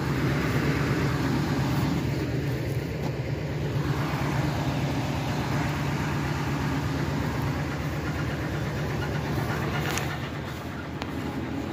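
A 2004 Ford E350 van engine idles a little above 1,000 rpm with a suspected misfire, giving a steady, continuous low rumble close by with no break and only a slight dip near the end.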